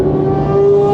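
Fast cars lapping a track at an unlimited-noise track day, heard as a loud, steady engine drone with a strong sustained tone that holds evenly throughout.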